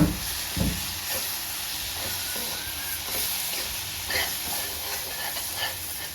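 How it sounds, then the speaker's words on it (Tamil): Chili powder sizzles steadily in hot oil with onions and tomatoes while an onion tomato thokku cooks, giving a continuous close-up frying hiss with small stirring bumps and no talking. "இந்த மிளகாவுடைய பச்சை வாசனை போகட்டோன்னு இது எண்ணெயிலேயே நல்லா வதக்கிக்கணும்"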